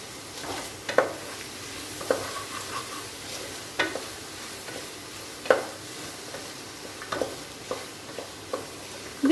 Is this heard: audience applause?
no